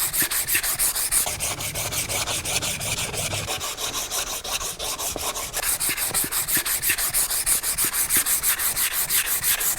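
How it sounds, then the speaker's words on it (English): Oak katana handle being hand sanded with 180 grit sandpaper, a close, steady rhythmic back-and-forth scratching of rapid even strokes with a short pause midway. "we are going to hand sand this and bring this up to a lovely, lovely finish"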